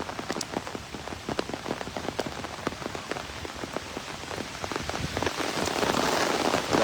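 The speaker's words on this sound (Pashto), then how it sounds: "باران ډېر زیات شو" Heavy rain pours steadily onto surfaces in a village near Mardan, Khyber Pakhtunkhwa, a dense patter of close drops that grows louder toward the end, with no voices.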